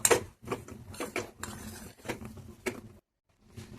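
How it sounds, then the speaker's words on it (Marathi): A spoon scraping and tapping around a pan as sugar is stirred into pineapple sheera with semolina and saffron, a close series of uneven clinks and scrapes with a brief pause near the end. "साखर आपण छान मिक्स करून घेऊया"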